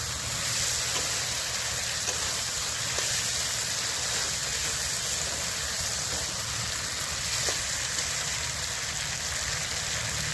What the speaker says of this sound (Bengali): ঝুলের জন্য এই যে জল দিয়ে দেবো।